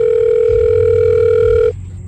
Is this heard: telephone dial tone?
yes